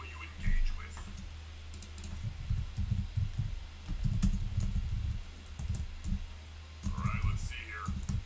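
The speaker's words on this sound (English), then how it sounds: "Just typing." Keys clatter on a computer keyboard in irregular bursts of close clicking typing during a trading livestream, with brief pauses and a voice speaking near the end.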